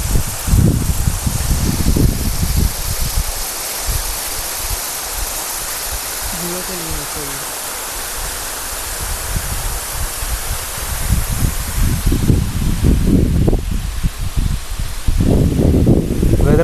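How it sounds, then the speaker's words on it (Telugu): Rainwater pouring down a hillside near a village after heavy rain, a steady loud rushing roar that continues throughout, with someone talking over it at times. "చూడండి నీళ్ళు అట్లా వస్తున్నాయి కొండ మీదకి వెళ్ళి"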